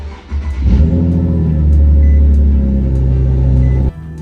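A tuned Nissan G37 with a Z1 exhaust cranks briefly, fires up loudly up close and settles into a deep, steady idle before cutting off abruptly.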